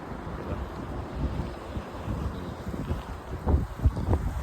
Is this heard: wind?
yes